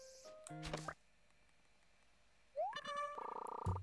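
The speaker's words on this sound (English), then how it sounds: "I can hear a frog." In Animal Crossing New Leaf, a game frog gives short synthetic plopping croaks: a burst of tones, a quiet pause, then a rising blip and a run of quick pulsing notes, clean and close.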